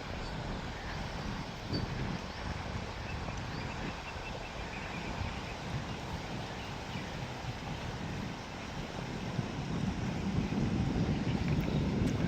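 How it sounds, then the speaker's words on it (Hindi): An easterly wind blows by a river, buffeting the microphone in a steady rushing hiss that swells slightly toward the end, with no speech. "हवा देखिए, पूर्वा हवा चल रही है"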